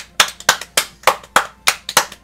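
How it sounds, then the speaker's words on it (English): Hands clap about ten times in a fairly even rhythm, sharp and close, with no talking. "Clap it up, clap it up."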